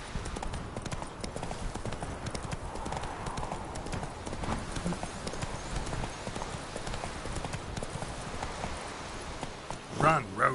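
Roach, the horse in The Witcher 3, gallops in a fast, steady clip-clop close by, running continuously with a brief louder burst at the end.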